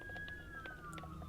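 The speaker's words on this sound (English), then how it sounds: "Sorry for the siren." A siren wails faintly in the distance outside, a steady tone slowly sliding downward beneath low traffic rumble.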